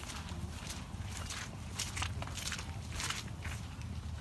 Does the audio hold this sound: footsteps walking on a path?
yes